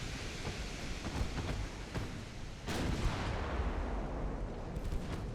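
Naval shells from Ultimate Admiral: Dreadnoughts roar and boom in a dense, continuous barrage, heavy impacts and firing blending into a loud rumbling wash with a few sharper blasts.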